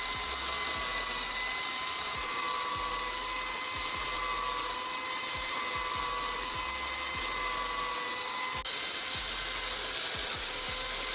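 A knife blade being sharpened against sandpaper stuck to a CD disc on a spinning angle grinder: a steady, loud high-pitched whine with continuous grinding hiss and faint periodic taps throughout.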